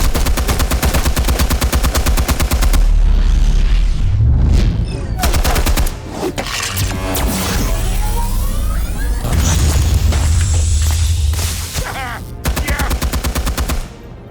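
Loud, sustained bursts of automatic gunfire from the Batman: Realm of Shadows game, bullets hammering a suit in rapid volleys with brief pauses, booming impacts and a voice breaking in.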